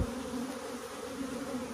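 Honeybees from a small, weak colony in an opened hive buzz continuously, a dense, close, steady drone with no talk.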